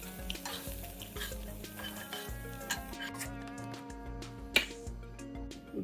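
Paneer shallow frying in oil in a pan for a gongura paneer fried rice, with a steady close sizzle under repeated stirring and scraping scrapes, plus a sharp metallic clink near the end.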